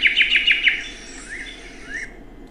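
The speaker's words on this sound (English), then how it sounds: "The bird species is American robin." An American robin sings a quick run of five bright, clear chirped phrases, followed by a few softer, sliding whistled notes, close and alone with no other sounds.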